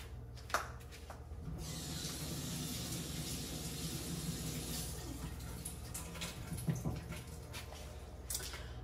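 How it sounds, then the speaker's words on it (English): A kitchen tap runs in a steady, soft hiss while a hand is rinsed under it, with a few clinks and splashes at the start and end, faint and close. "I'm going to go wash my hand real quick"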